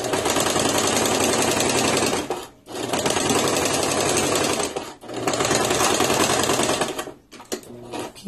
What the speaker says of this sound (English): Back stitch at the beginning and end.